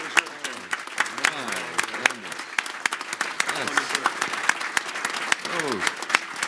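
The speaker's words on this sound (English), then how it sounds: "Let's give him a big round of applause" A crowd at a lifetime achievement award ceremony for Jim Oberstar applauds steadily, many hands clapping with sharp individual claps standing out, while voices talk and call out over the clapping.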